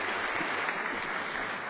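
A crowd applauds a school principal at a district event, steady dense clapping filling the room throughout without a break.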